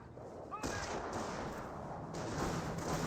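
Bursts of gunfire from a light AT half-track in Company of Heroes rattle out in several sharp volleys, with booming impacts and battlefield rumble layered underneath.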